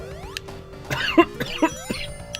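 A man with a bad recent cough gives a few short, rough coughs close to the microphone over video game music and sound effects.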